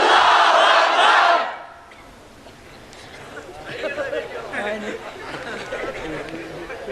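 A crowd at a Bangla religious sermon (waz) shouts the takbir chant loudly in unison for about a second. The shout then drops to a low murmur, with scattered voices and chatter rising again afterward.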